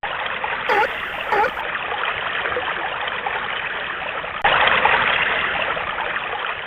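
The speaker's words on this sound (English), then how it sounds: "Shellfish jump in the water." Shellfish jumping in water: a steady rushing, trickling water noise with a couple of brief splashes early on and a louder surge of splashing later.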